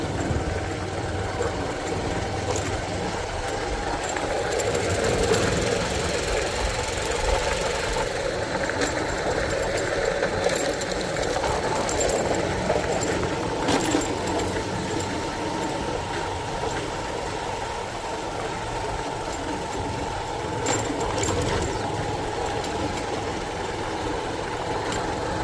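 A motorcycle engine drones steadily while the bike is ridden toward a farmhouse, a close, continuous rumble with road and wind noise throughout and no talking.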